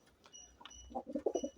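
Pigeons in a backyard loft coo softly in a short run of low, burbling calls that start after a faint, quieter lead-in, close by with no talking.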